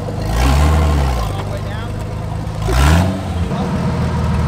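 A loud Jeep engine with a broken exhaust rumbles and revs twice with a rough, raspy roar, while people talk over it.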